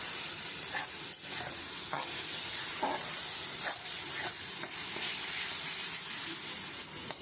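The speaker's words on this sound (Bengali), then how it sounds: "এই মশলাটা খুব সুন্দর করে কষিয়ে নেব।" Cumin and chili powder masala frying in a pan, giving a continuous sizzle broken by repeated scraping strokes of a spoon as it is stirred.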